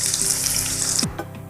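Sliced onion hits two tablespoons of hot cooking oil, giving a loud, steady frying hiss with a bright crackle that ends abruptly after about a second, followed by a faint clink.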